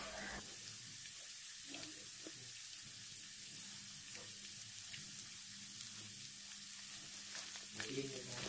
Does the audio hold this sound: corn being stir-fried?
yes